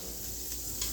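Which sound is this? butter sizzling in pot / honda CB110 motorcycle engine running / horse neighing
butter sizzling in pot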